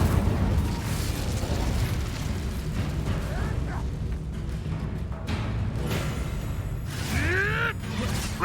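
Incendio fire spell cast in the PS5 game Hogwarts Legacy, a burst of flame and explosive whooshes over a dense, continuous backdrop of game combat noise, with a voice speaking briefly.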